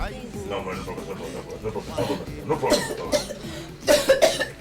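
Coughing from a woman in a Nigerian comedy film's quack doctor scene, several harsh bursts that grow louder toward the end, with brief speech from others.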